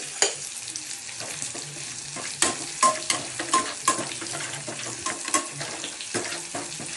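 A spoon stirs turmeric and chili into an egg posto mixture in a bowl, with soft scraping and wet mixing sounds, near and moderately loud, in an uneven rhythm with occasional light knocks and no talk.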